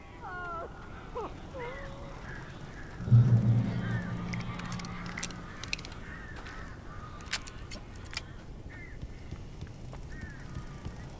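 Crows caw in the video game Alan Wake Remastered, a few harsh calls near the start and later, over a low rumbling ambience with a heavy thud and scattered clicks, while a voice speaks briefly.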